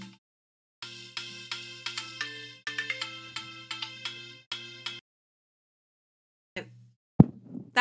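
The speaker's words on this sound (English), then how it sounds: "so that was a phone call from her." Mobile phone ringtone for an incoming call, a bright melodic tone sequence repeating in several short bursts over a few seconds in a quiet room, then silence broken by faint handling knocks.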